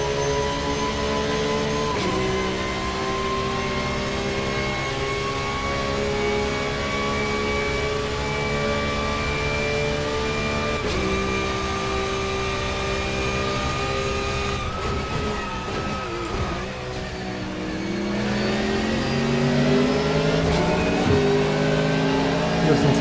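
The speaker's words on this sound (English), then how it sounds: "It does sound awesome when you get close to this Aston." Aston Martin race car engine in the Assetto Corsa racing game, a sustained high-pitched engine whine that rises and falls through shifts and revs, loud and continuous with no talking.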